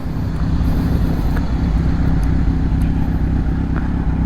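A Kawasaki Z900 motorcycle riding slowly through a U-turn on a US road: a loud, steady engine drone with heavy wind buffeting on the microphone throughout, no talk.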